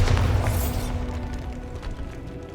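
A Bombarda explosion spell in the Hogwarts Legacy game, a loud deep boom with a rising whoosh that fades into a rumbling tail.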